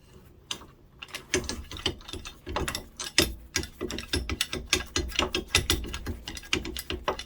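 A socket wrench ratchets in quick, repeated clicking strokes on the front axle of a RAM 2500, close and clear, with brief pauses between bursts.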